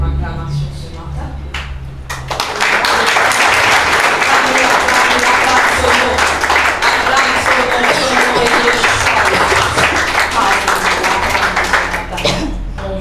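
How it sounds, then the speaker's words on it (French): A church congregation applauds during a morning worship service, a dense, loud burst of clapping mixed with voices that swells after a couple of seconds and holds steadily for about ten seconds before tapering. "acclame le Seigneur ce matin"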